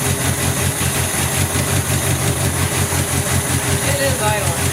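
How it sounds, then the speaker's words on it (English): An Opel GT engine idles steadily just after its first start in 30 years, a close, even, pulsing rumble with a voice talking briefly over it. "It is idling now"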